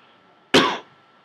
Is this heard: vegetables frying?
no